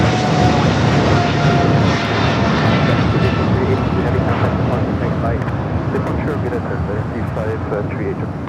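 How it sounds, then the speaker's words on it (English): A China Airlines cargo Boeing 777 jet rolls down runway 25 left at Los Angeles LAX on its takeoff run, giving a loud, steady, close engine roar that holds strong throughout. "We got that China Airlines cargo. 777 rolling down that 25 left."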